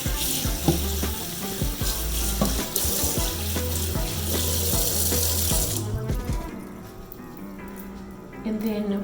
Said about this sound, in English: I'm gonna wash my hands really quickly